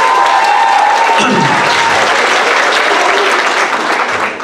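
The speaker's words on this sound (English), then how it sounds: "let's give them a big round of applause there as well" Loud, sustained applause from the audience at a school Transition Year variety show at Enniscorthy Community College, a dense steady roar of clapping that tapers slightly at the close.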